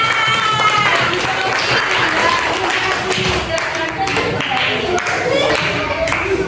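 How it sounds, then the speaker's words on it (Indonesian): A classroom group of students gets a round of clapping, dense and lively applause throughout with a few voices chattering over it. "Oke, tepuk tangan untuk kelompok Anda."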